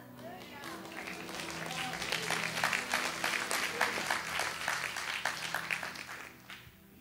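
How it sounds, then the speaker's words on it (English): An audience gives scattered, modest applause at a rabbi's service, soft and somewhat distant, swelling for a few seconds before tapering off. "that applause was not impressive by no stretch of the imagination"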